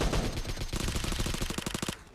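Rapid automatic gunfire in PUBG on the Erangal map, a fast rhythmic burst of sharp shots lasting about two seconds, loud and close.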